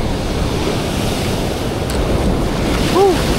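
Strong ocean waves surge and crash against the shore during a fishing outing, a loud continuous roar with heavy wind buffeting the microphone and a brief squeal near the end.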